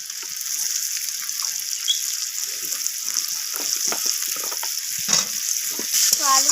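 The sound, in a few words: potatoes and onions frying and stirred in oil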